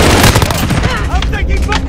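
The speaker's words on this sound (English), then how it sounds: "I'm taking fire!" Rapid automatic gunfire in Call of Duty: Modern Warfare multiplayer, loud dense bursts of shots crowding together with booming impacts, continuous and close.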